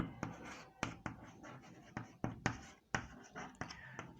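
Names of substances such as uranium, thorium and radium being written on a board: quick scratchy strokes and taps in an irregular rhythm, close and fairly clear, with no talk.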